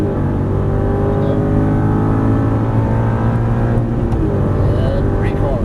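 Aston Martin V8 Vantage on a Las Vegas racetrack accelerating at full throttle, a loud, steady engine roar with a dense drone holding throughout, no clear break or gear change.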